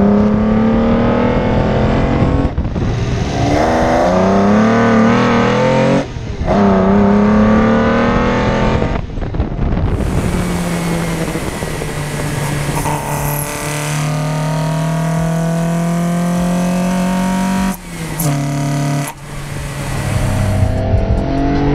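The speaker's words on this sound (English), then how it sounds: "Another reason why car enthusiasts love ITBs so much is because of the sound that ITBs make." A car engine with individual throttle bodies revs hard in repeated loud bursts, rising and falling sharply with a raspy intake snarl and crackles between pulls.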